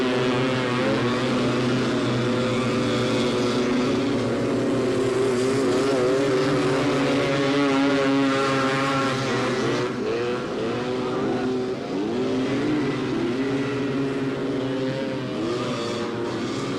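Three-wheeler ATVs race at the 1985 AMA national in Miami, their engines droning and whining in a loud continuous roar as several machines pass, with pitch rising and falling through the laps.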